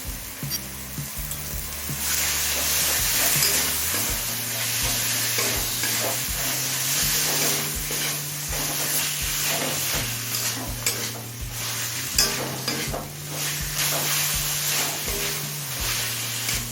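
Chicken mince with spices and salt sautés over high heat, a loud continuous sizzle with a spatula scraping and stirring through it, a low steady burner hum underneath; no speech.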